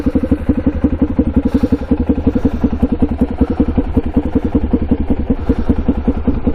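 A cheap quad ATV engine idles while warming up, a loud, close, rapid steady chugging with even pulses and slight unevenness, running alone without talk.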